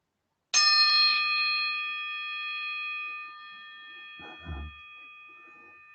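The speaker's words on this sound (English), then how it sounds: "So this is quite a long chime" A long metal chime struck once with a wooden mallet rings out loud and close, its bright overtones sustaining and slowly fading over several seconds, with a faint bump of handling noise near the end.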